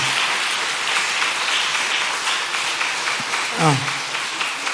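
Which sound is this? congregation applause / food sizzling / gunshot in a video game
congregation applause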